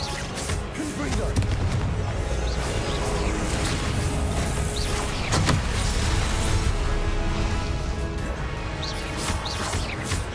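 Confringo fire-blast spells cast in Hogwarts Legacy make loud, continuous booming bursts and whooshes over a busy combat din, with no voices.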